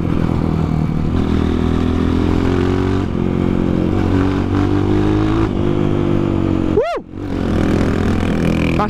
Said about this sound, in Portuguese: A moto tá cortando, tem alguma coisa errada aqui.